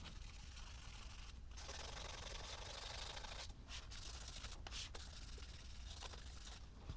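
Hand sanding a painted Dell Latitude laptop lid with 2500 grit sandpaper, a faint continuous rubbing hiss broken by a few short pauses between strokes.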